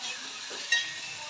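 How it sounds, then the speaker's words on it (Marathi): Onion, garlic, tomato and cumin frying in a pan, heard as a steady close sizzle with one short scrape of a spoon in the middle. "लसूण टमाटर टाकलेलं आहे. ते छान भाजून घेणार आहे आता मस्त."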